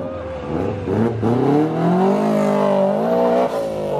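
A car drifting with its tires squealing, a loud, sustained, wavering screech that rises and bends in pitch alongside the engine note, heard close.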